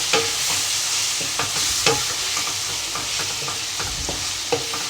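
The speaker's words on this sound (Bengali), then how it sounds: "তো গাইজ এইবার আমি জাস্ট এইটাকে ভালো করে কষিয়ে নেব।" Chicken hariyali masala with garam masala frying in a pan, a loud continuous sizzle with irregular scraping stirs of a spoon up close, no voices.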